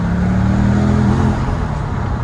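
An LS V8-swapped Porsche 996 engine runs loudly and steadily up close, a dense low rumble with only a slight dip in level toward the end rather than a clear stumble.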